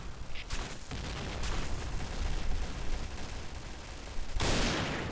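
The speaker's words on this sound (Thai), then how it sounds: "มึงเอาลูกซองยิงกูเนี่ย" Gunfire rattles in the online shooter game Point Blank, including shotgun blasts, as a dense run of loud shots, with a heavy burst near the end.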